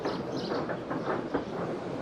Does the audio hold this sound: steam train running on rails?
yes